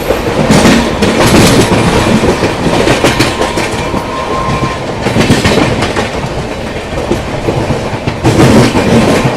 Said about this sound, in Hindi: आगरा वाली लाइन से आ रही है मरुधर एक्सप्रेस